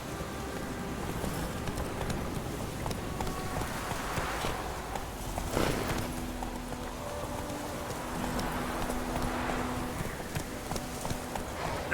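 Hooves of Roach, the horse in The Witcher 3, clip-clopping steadily at a walk across the ground, set within a dense, continuous game soundscape, with no voices heard.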